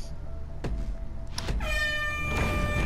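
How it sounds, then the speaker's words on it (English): Air horn blast in a sumo map of an online multiplayer game, a sustained harmonic honk sounding from midway on and holding to the end, preceded by a few short knocks and thumps. "Air horn!"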